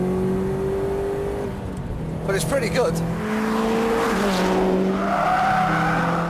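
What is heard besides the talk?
Litchfield Subaru WRX accelerating in 4th gear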